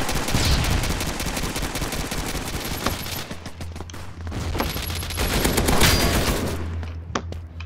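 In the pixelated shooter Pixel Strike 3D, rapid gunfire rattles in dense bursts across the whole stretch, with sharp individual shots standing out against a continuous backdrop of game noise.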